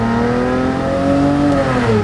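A V12 engine in a cheap $10,000 car revs hard on a race track, a loud sustained roar with rising and falling harmonic pitch and no voices.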